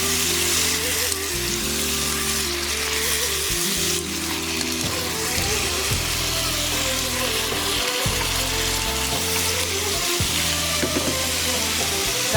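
About 170 grams of button mushrooms fry and get stirred in a pan, giving a continuous loud sizzle with scraping strokes beneath a steady mechanical hum, and no talking.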